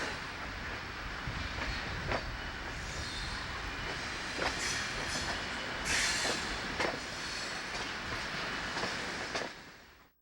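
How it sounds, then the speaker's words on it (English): A U-33B diesel locomotive rolls along the track beside an old track speeder, a steady loud rumble of wheels and rail with periodic clicks and metallic squeals throughout. "we are lucky to participate in a pacing scene involving U-33B number 2895 and an old track speeder."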